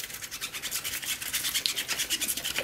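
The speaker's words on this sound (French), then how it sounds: "On peut reprendre sa petite brosse à dents." A small toothbrush scrubs a dishwasher filter under the tap. The rapid back-and-forth bristle strokes are close, bright and rhythmic, and they continue alone with no pauses.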